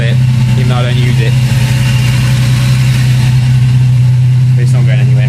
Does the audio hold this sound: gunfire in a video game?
no